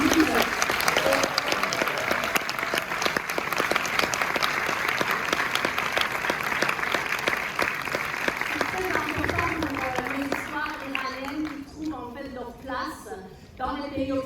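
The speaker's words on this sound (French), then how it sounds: "applaudir très fort le distributeur du film" An audience at a Paris preview screening gives sustained, dense applause for the film's distributor, many hands clapping steadily for about ten seconds before thinning out as voices begin to speak.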